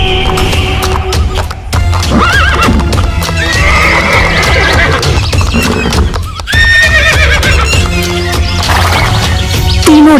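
Cartoon horses whinny repeatedly over fast, clopping hooves, loud and busy, with a crash mixed in and several neighs rising above the continuous galloping.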